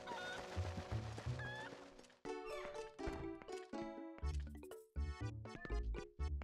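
Cuckoo clucking in Zelda: Twilight Princess HD, a run of short chicken-like clucks and squawks over a steady game music bed, with repeated bursts fairly loud and close.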